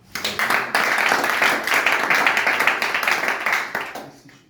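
A church congregation breaks into loud, sustained applause and cheering in praise, dense clapping rising quickly, holding steady, then tapering off near the end.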